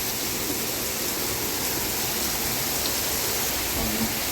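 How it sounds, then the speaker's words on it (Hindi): Heavy monsoon rain pours steadily over open farm fields, a dense, continuous hiss of drops with no pauses, loud and close throughout. "कितनी जोर की बरसात आई"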